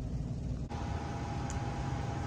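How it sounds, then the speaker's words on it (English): Steady broadband whir of a fan running throughout, fairly constant and moderately quiet, with no voices. "excuse the fan noise in the background"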